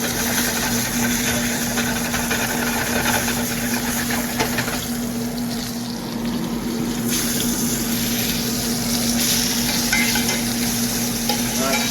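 A grass-fed beef round steak sears in a pan on an electric stove, a loud, dense sizzle running throughout with stirring and shuffling as the steak is moved, briefly easing in the middle, no talking.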